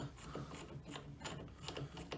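A ratchet running a 19 mm bolt down during timing chain work on a 1994 Moto 4 350, with faint, close clicking and quick bursts of ratcheting in an irregular rhythm.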